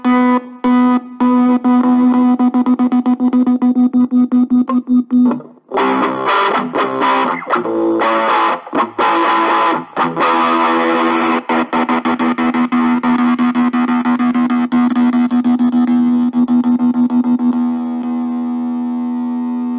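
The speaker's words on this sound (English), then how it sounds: "Let's add a bit of distortion on there." Heavily distorted Stretton Payne electric guitar rings out loud and sustained, with chords cut in and out by a kill switch in choppy, stuttering bursts before a long held note.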